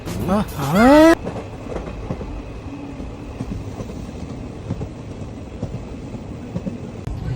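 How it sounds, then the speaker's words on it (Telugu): A passenger train bound for Tirupati, just starting off, sounds a short rising horn blast, then settles into a steady low rumble of wheels and carriages rolling on the rails, with faint clatter throughout. "ట్రైన్ స్టార్ట్ అయిపోయింది."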